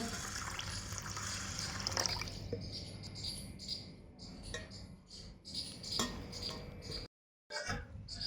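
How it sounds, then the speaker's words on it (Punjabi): Water is poured into a vessel of rice to soak, making a quiet, running splash and trickle with light clinks, a brief dropout near the end. "ਹੁਣ ਆਪਾਂ ਇਹਦੇ ਵਿੱਚ ਪਾਣੀ ਪਾ ਕੇ ਰੱਖ ਦਿਆਂਗੇ 10 ਮਿੰਟ"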